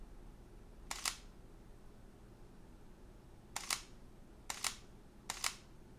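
Four crisp shutter clicks from a Sony A7 mirrorless camera, recorded up close, with one isolated actuation followed after a pause by three more in an uneven rhythm, over a quiet background.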